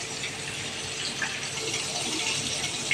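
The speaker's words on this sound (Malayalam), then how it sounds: "വെള്ളം ഒഴിച്ച് കൊടുക്കുന്നുണ്ട്." Water poured into a cooking pot while making a fish dish, a soft continuous splashing gush that stays fairly faint and steady throughout, with no voices.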